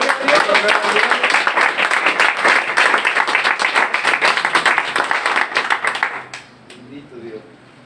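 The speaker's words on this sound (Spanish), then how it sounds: "Dale un aplauso al Señor." A church congregation claps and applauds steadily for several seconds during a sermon, then the clapping quickly fades to quiet.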